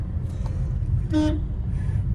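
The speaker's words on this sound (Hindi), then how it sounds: "हॉर्न हमेशा लॉन्ग प्रेस करते हैं, लंबा हॉर्न बजाते हैं" A single car horn sounds briefly, a short clear honk over steady low engine rumble.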